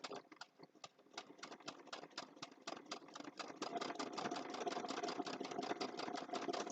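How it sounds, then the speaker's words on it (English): A sewing machine with a twin needle stitches fabric bookmarks in a fast, steady run of even mechanical beats that grows slightly louder and denser toward the end, heard up close with no talking. "So I'm going to stitch for a second."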